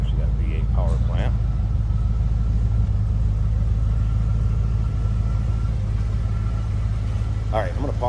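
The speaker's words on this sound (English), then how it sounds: "Of course, you got V8 power plant." A deep, steady V8 engine rumble from an idling 1988 Lincoln Mark VII Bill Blass Edition runs continuously at moderate volume, with a couple of brief voice fragments near the start and end.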